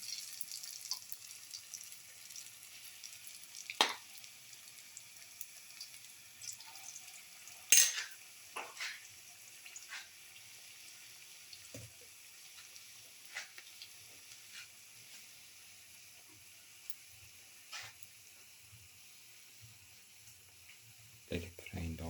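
Onion and chickpea flour fritters sizzle in hot oil, a steady faint hiss with occasional spatters and clinks of a utensil against the pan.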